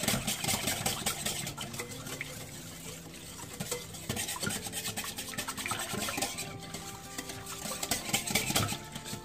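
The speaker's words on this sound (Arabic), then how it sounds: "Maintenant, je mélange tous les ingrédients." Cake ingredients being mixed with sugar in a bowl, a steady scraping and stirring rasp that runs continuously and fairly close, with clinks of the utensil against the bowl and no talking.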